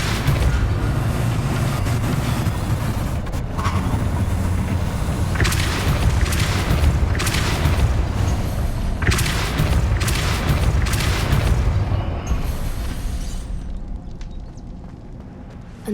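Repeated booming magical blasts from the Depulso spell in Hogwarts Legacy, a run of heavy thuds clustered in the middle over a loud rumbling background that fades toward the end.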